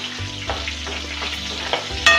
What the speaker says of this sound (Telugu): ఇదే గిన్నెలో స్టవ్ ముట్టించుకొని నూనె పోసుకోవాలండి. కొద్దిగా జీలకర్ర వేసుకోవాలండి,